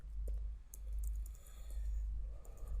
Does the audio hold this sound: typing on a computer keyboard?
yes